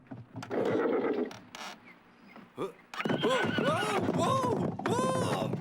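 A horse in a draft breast harness neighs in repeated loud, shaky whinnies, with a few hoof clops and thunks between calls, close and clear over a quiet background.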